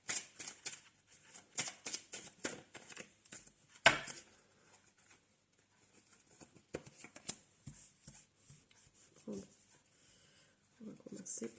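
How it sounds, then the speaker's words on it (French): Tarot cards being cut and handled on a table: quick, crisp papery flicks and taps in irregular bursts, one sharper thump partway through, then quieter rustling, with a soft voice near the end. "On va couper le jeu."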